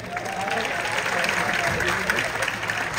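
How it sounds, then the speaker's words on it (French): An audience applauds for Mali at a stage show in Abidjan's Palais de la Culture, steady crowd clapping mixed with voices and background music throughout. "applaudissez pour le Mali."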